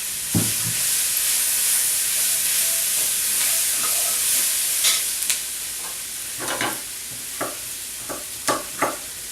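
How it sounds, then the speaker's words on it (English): Four cut red potatoes hit a hot pot of caramelizing aromatics for a vegan mushroom chowder, setting off a steady loud sizzle, followed by scattered scraping and stirring knocks. "So that's good time for me to add my potatoes."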